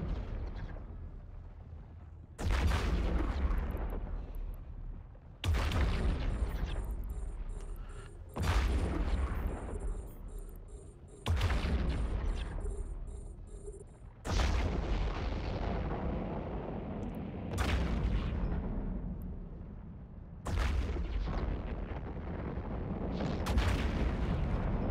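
Huge ship cannons in EVE Online fire in heavy, evenly spaced volleys, each a deep booming blast that rolls off into a long decaying rumble, repeating about every three seconds, loud and close.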